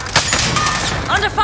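Rapid bursts of gunfire rattle through a video game firefight, a dense continuous barrage with sharp cracks at close range, while voices and radio-style chatter run over the shooting.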